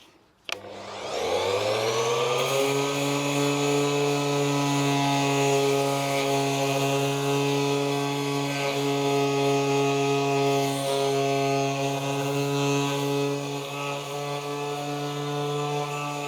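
A power sander runs at speed 1 or 2 with 120-grit paper on a plastic car bumper, a steady loud motor whine starting after a brief knock and holding evenly throughout, with no talk.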